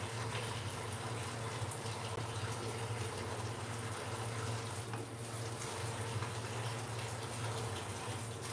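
Baasida mixture bubbles steadily in a pot as it cooks, making a continuous, even gurgling simmer with a low hum beneath it and no talking.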